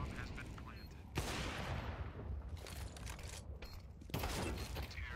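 Gunfire in a professional Counter-Strike esports match, sharp bursts of shots with two loud cracks standing out among rattling volleys, heard under an excited commentator's voice and crowd-like background noise.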